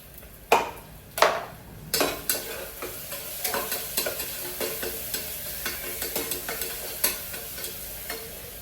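Onions frying with green chili and garlic paste, coriander and mint in a pan while being stirred, a steady sizzle under repeated scraping and clinking strokes, a few sharp at first, then a quicker even rhythm, close and without talk.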